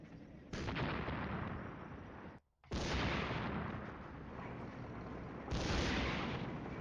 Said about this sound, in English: here's the artillery